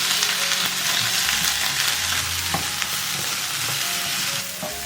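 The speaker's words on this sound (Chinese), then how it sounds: "把苹果倒进来翻炒" Small chunks of apple stir-fried in a little leftover oil in a wok, a dense continuous sizzle close up with stirring scrapes, steady and loud with no talking.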